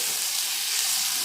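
Pointed gourd and potatoes frying in hot oil, a dense, loud, steady sizzle close by with no pauses.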